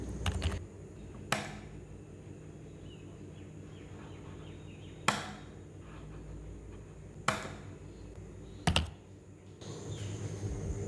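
A few spaced, sharp keystrokes on a computer keyboard while filling in a website form. They come as isolated clicks several seconds apart over a quiet room hum, with no talking.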